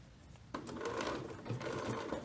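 A sewing machine stitches a zigzag seam on stretchy fabric for baby bloomers, starting after a brief quiet moment and running steadily, close and fairly loud, for about two seconds with no talk.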